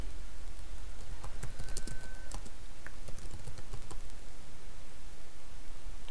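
Keys tapped on a computer keyboard while a place name is typed into GRAMPS genealogy software, a quick, uneven run of close, light clicks over a steady room hum, with no talk.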